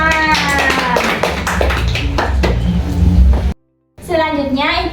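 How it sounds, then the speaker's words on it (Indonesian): Children in a classroom clap their hands together in a dense, energetic burst of overlapping claps, layered with young voices, before the sound cuts off abruptly and chatter resumes. "Nah, tepuk tangan."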